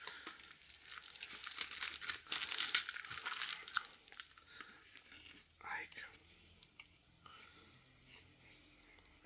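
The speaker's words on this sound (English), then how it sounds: "we're gonna remove the tape. Try not to cut into the stock as I do it" Tape is peeled and torn away from the wooden stock of an antique Diana BB gun made of German white oak, giving close crinkling and ripping bursts with quiet handling noises and a faint voice between them.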